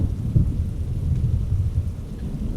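A thunder and lightning effect rumbles low and heavy in a steady roll, with rain-like crackle layered over it and no voices.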